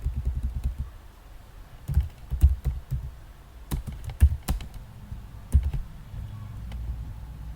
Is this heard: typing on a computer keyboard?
yes